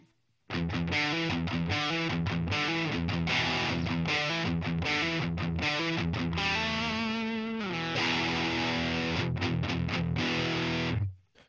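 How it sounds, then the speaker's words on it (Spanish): Electric guitar through a Rocktek ODR-01 overdrive pedal with every knob set to noon, strumming a steady run of gritty, distorted chords for about ten seconds, ending on a held chord, loud and with no one speaking. "ahora tenemos el Overdrive con todos sus controles hacia las 12."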